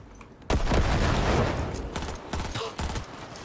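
Gunfire in the video game Cyberpunk 2077, a loud close burst of rapid shots starting abruptly, followed by several shorter volleys and separate cracks, with no speech over them.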